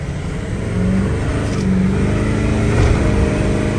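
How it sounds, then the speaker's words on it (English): Turbochargers spool up on a 2008 Ford F450 King Ranch 6.4L diesel dually, a steady loud engine drone with a rising whine building over the low rumble throughout. "I love the sound of turbos just spooling up"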